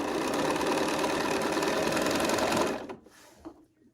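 A sewing machine stitches a quilt block seam in a steady, fast, buzzing run. It stops abruptly near the end, followed by a few faint handling sounds.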